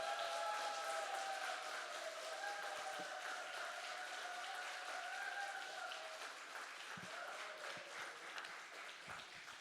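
A church congregation claps at a Wednesday worship service to welcome an evangelist to the pulpit, the broadband applause steady and fairly soft throughout, with faint musical tones held underneath during the first half.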